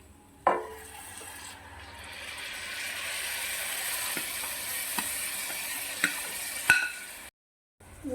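Ground paste of coriander leaves, mint and pandan leaf is stirred in a hot pan, a steady soft sizzle with scraping strokes and a few sharp utensil knocks, close and without talk.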